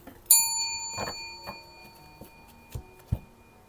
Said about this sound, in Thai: กดกระดิ่งเห็นไหม